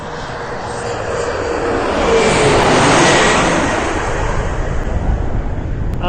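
A passenger jet lands at Reagan National Airport, its engine roar swelling to a broad loud peak midway and then easing into a steady rumble as it passes.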